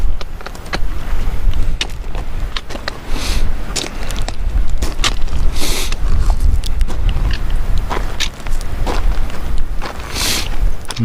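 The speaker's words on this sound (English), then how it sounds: "Now it's a little bit windier on this section of the trail, and we're kind of facing into the wind" Wind gusting steadily on the Arroyo Trail in New Mexico's Organ Mountains, a loud continuous rumbling buffet against the microphone with crunching footsteps on the trail mixed in.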